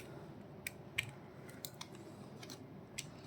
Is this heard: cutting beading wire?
yes